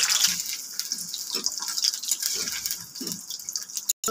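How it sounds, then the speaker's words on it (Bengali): A kitchen tap runs steadily close by while chicken liver is rinsed in the sink, with a few soft splashes and drips breaking through the flow and no speech. "ধুয়ে পরিষ্কার করে নেব"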